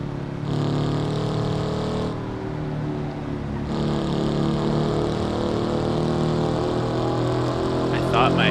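Loud engine drone of a car in a driving video game, a steady rumbling hum with layered harmonics that dips briefly and holds at a constant high level throughout.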